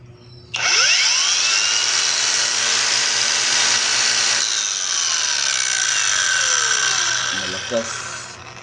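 Cordless angle grinder spinning up sharply and running at a steady high-pitched whine for several seconds before winding down, loud and close.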